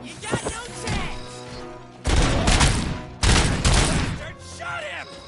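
Bursts of gunfire in Robocop: Rogue City come in two loud sustained volleys, with excited talk and shouting over the quieter gaps between them.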